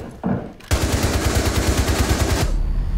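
Automatic gunfire in Rainbow Six Siege on the Skyscraper map: after a brief lead-in comes a loud, continuous rapid burst of shots lasting about two seconds, then a sudden stop.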